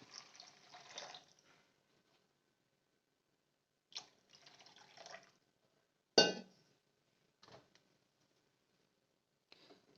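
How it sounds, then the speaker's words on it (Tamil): Water is poured from a vessel into a cooking pan of sautéed onions for rice upma, arriving in several short separate splashes and clinks, close and fairly quiet, with silence between them. "இப்போ நம்ம வந்து இந்த ஸ்டேஜில் வந்து தண்ணி சேர்த்துக்கலாம்"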